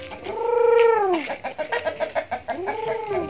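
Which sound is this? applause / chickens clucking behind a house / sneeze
chickens clucking behind a house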